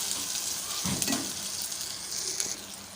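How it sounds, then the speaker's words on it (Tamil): Ginger and garlic sautéing in oil in a pan produce a soft, even sizzle with a couple of brief stirring scrapes, close and fairly quiet, without speech. "இப்போ இதை வந்து நம்ம நல்லா வதக்கிக்கலாம்"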